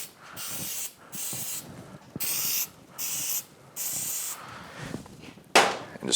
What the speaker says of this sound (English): we're going to spray them down with a little bit of silicone